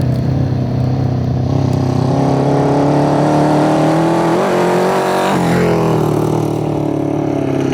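An old Honda CB350F motorcycle fitted with a backyard big bore kit being ridden, its engine droning loud and steady close by with shifting pitch as it revs and pulls away.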